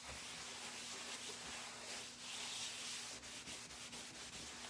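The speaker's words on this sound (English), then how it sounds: "Let's see if we can get that to buff a little bit." Small handmade wooden tree craft piece being buffed, a close continuous rubbing hiss that swells and eases with the strokes, with a faint rattle underneath and no speech.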